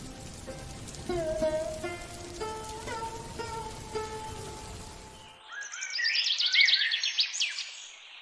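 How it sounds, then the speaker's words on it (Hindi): Heavy rain at night in a Hindi cartoon story, a dense hiss of falling water that swells louder near the end after a stretch of music and birdlike chirps. "उस रात की भारी बारिश और तूफान ने सांता और कांति बूढ़ी की रसोई घर को तोड़ दिया।"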